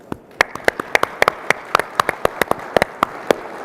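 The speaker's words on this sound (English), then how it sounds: "one more round of applause for everybody who's made this happen" Sparse applause at the Consensus 2024 crypto conference: about twenty distinct, sharp claps in an uneven patter from a small number of hands, close and crisp, with quiet room noise between them.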